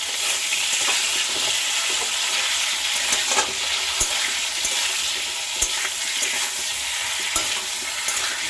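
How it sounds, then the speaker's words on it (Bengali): Salted pointed gourd (potol) pieces frying in oil in a pan give off a continuous close sizzle, broken by occasional sharp clicks and taps from stirring. "পটলটা কিন্তু একটু লাল লাল করে ভেজে নেব।"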